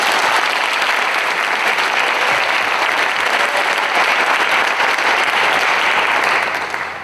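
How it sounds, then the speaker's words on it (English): Sustained applause from a concert-hall audience at Carnegie Music Hall, a dense, steady wash of many clapping hands held at full strength for about seven seconds before starting to fade at the end. "Please, a round of applause for the OMX board."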